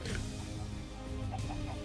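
Chicken clucking in Minecraft, a soft, steady string of game-fowl clucks over a dense, noisy background without talk.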